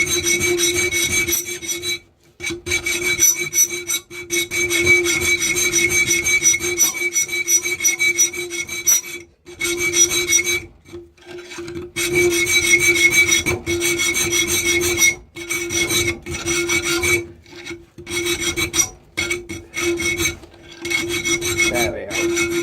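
Steady rasping strokes of a file on a knife blank clamped in a vise, close and loud, repeating in long runs broken by short pauses.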